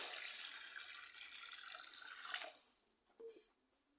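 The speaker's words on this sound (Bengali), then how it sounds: "আমি এখন জল দিয়ে দিচ্ছি" Water running from a tap into a pan to start jaggery syrup, a steady hissing pour for about two and a half seconds that cuts off, followed by a brief faint clink.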